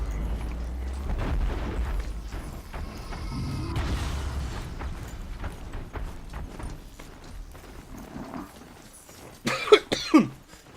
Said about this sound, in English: Got a little bit of that residual cough